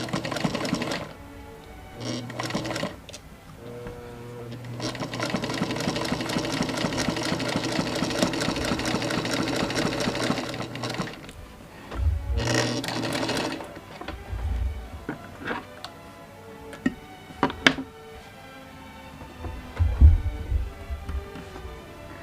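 Sewing machine stitching a dart on a wrap dress, running in bursts of rapid mechanical clatter with a long steady run in the middle, then pauses, clicks and handling noises.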